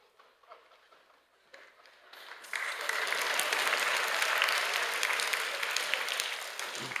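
A few scattered claps start, then a church congregation at a young adults' worship service breaks into sustained, moderate applause that carries on to the end.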